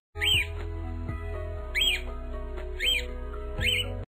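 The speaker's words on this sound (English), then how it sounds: "Avni has Pepe, the parrot." A parrot squawks four times in sharp, evenly spaced, rising-and-falling calls over a low, steady hum and tonal background, fairly faint overall, with no speech.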